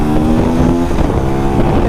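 A Bajaj Pulsar NS 200 BS3 motorcycle engine revs hard under acceleration, producing a loud, continuous buzzing drone with rising tonal whine and wind rush against the microphone.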